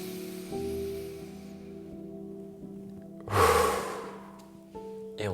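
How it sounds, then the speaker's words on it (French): A slow, long breath is drawn in through the nose, soft and airy, followed by a sudden forceful blast of exhaled air that bursts loudly and then fades, with a faint steady hum underneath. "On va inspirer longtemps par le nez et on va souffler rapidement."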